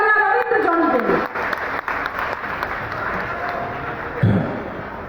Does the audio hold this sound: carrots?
no